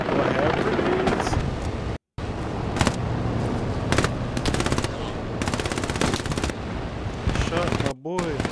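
Rapid automatic gunfire from the Hell Let Loose video game, with repeated loud bursts and crackling shots that run almost continuously over a steady battle din, broken by a couple of very brief silent gaps.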